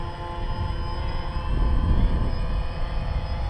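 A DJI Phantom drone descending, its steady whining motor hum close and continuous with a low rumbling undertone, no voices.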